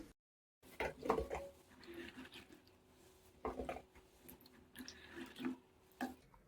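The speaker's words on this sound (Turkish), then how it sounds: "çilekleri suyun içinden bu şekilde elimizle çekip çıkartalım" Washed strawberries are lifted by hand out of a bowl of water for jam, giving soft intermittent splashes and drips at close range, quiet and irregular.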